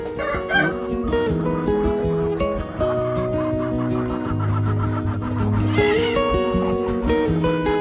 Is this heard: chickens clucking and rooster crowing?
yes